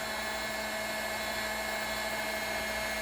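SeekOne 1800W heat gun blows hot air freely into open space, giving a steady, loud, unbroken whir and rush with a constant motor tone and no talking.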